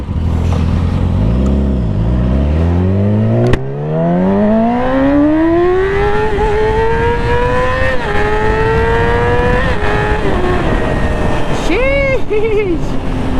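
A Yamaha R6 or Aprilia RS660 sport motorcycle engine revs hard and loud up through rising pitch, with a brief gear change, then climbs steadily and wavers near the end, close and continuous.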